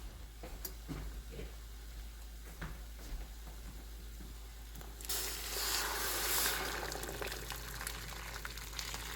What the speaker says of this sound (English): Add boiling water, so it makes the cooking easier too.